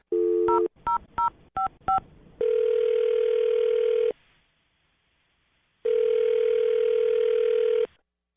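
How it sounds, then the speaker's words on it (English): Five short touch-tone beeps in quick succession, followed by two long steady electronic tones separated by a pause, loud and close. "I'm going to dial her phone number right now"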